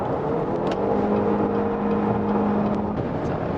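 A Cadillac XT4 SUV engine drones steadily at highway speed with rising tonal hum, mixed with broad road and wind noise from inside the moving vehicle.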